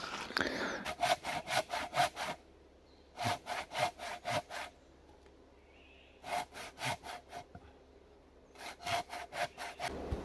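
A hand saw cuts wood at a forest cabin build, in four bursts of quick rhythmic back-and-forth strokes separated by pauses, close and clear.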